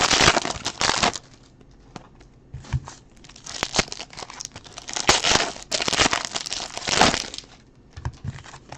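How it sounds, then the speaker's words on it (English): A pet tunnels through a pile of wrappers and boxes, making close, loud bursts of crinkling and crumpling plastic and cardboard in irregular spurts with brief lulls between them. "that's probably him trying to tunnel his way through the pile of wrappers and boxes"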